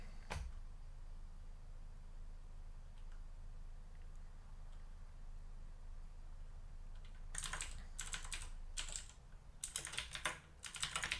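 Short, quick bursts of typing on a computer keyboard while writing code, clicking close by in irregular clusters after a long quiet stretch with a single earlier tap.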